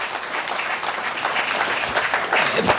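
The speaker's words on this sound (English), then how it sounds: "Another round of applause" Crowd applause for an honoured official at a Kenyan political gathering, a dense, even wash of many people clapping that holds steady and swells slightly near the end.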